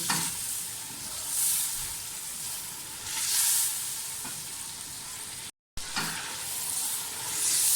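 Mixed vegetables for a vegetable biryani fry in a pan, a steady close sizzle rising in waves as they are stirred, with a brief gap near the end.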